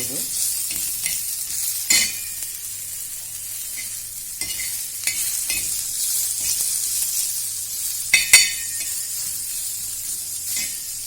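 Onions fry in a pan for mutton curry, giving a bright, even hiss with a few louder spoon scrapes and clatters scattered through it, close and without talk.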